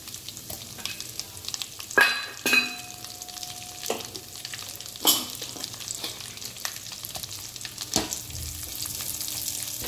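Almonds, cashews and raisins fry in ghee in a pan, giving a continuous soft sizzle broken by occasional spoon scrapes and clinks against the pan.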